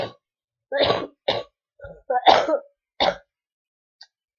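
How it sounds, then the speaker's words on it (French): A few short coughs and throat-clearing bursts, close to the microphone, spaced out with quiet gaps between them. "Désolée, je tousse encore."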